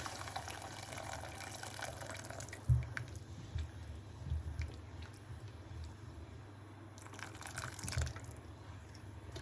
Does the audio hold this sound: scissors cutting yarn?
no